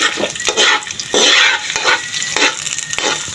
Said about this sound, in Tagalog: Gigisa na po niya ang bawang.